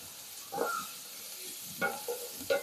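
Onions and brinjal sauté in a pan for brinjal chutney, with a soft sizzle and three short bursts of spoon-stirring scrapes, close and fairly quiet, with no talking.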